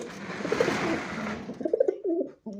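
Pigeons in a racing-pigeon loft give soft, throaty coos close by, a steady low burble at first, then several short rolling coo phrases before a brief gap and one more call.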